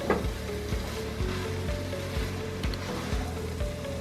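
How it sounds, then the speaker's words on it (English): Tomatoes tossed into a hot pot for borscht give a steady, close sizzle and frying crackle that runs the whole time, with no voices. "Carefully, very carefully, toss the tomatoes in"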